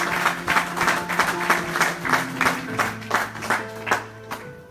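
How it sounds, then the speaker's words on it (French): A church congregation claps together in a lively rhythmic beat, many hands striking in steady repeated bursts over a background of voices and sustained tones. "Acclamons très fort pour le Seigneur"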